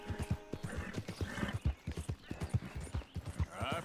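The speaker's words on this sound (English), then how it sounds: "Why would you try to get on my horse?" Hooves clip-clop in quick, uneven steps from a horse in the Red Dead Redemption 2 video game, fairly close, with a whinny and talk mixed in.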